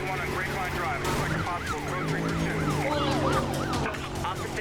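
A wailing police siren in the video game Need for Speed Rivals rises and falls repeatedly over a steady engine drone, loud and close, with no talking.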